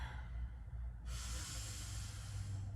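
One deep inhale before a home HIIT workout, a soft breathy hiss that swells into a louder airy rush partway through, close to the microphone with no talking.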